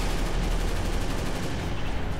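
A barrel launcher fires in a cursed Halo Reach mod for the video game. A dense, continuous roar of blasts and crashing debris runs loud and unbroken for about two seconds.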